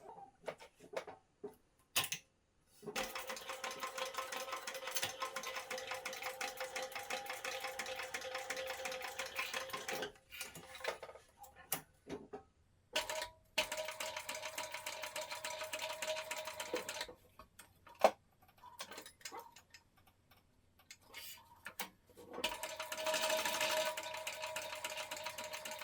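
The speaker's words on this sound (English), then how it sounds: "we can stitch along the markings that we made for our" A sewing machine stitches a fabric book sleeve along marked seam lines, running in steady whirring bursts that stop for pauses and pivots at corners, quiet and close.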